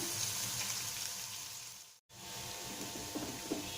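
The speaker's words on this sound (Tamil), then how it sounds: "இந்த வெங்காயம் நல்லா கோல்டன் ப்ரௌன் வரணும், அந்த மாதிரி வதக்கணும்." Onions for chicken biryani sautéing in a pan toward golden brown, a faint steady frying hiss with light stirring scrapes, interrupted by a brief moment of silence before the sizzle resumes.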